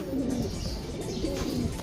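Pet pigeons or doves coo softly and continuously at close range, a low rolling murmur with no voices over it.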